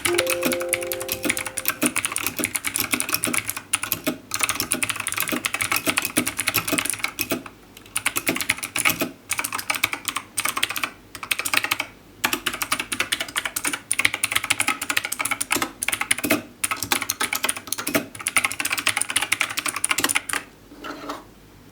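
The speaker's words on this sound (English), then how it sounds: "Now it is time to hear how does this keyboard sound." Fast, continuous typing on an Aukey KMG12 mechanical gaming keyboard, a dense clatter of key clicks heard close up with a few brief pauses, no voices.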